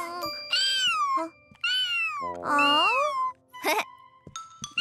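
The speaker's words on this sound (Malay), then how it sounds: "Kucing ni dah lapar. Tengok tu." A hungry cat meows at feeding time, giving several drawn-out, rising and falling meows close by, with short pauses between them and no talking.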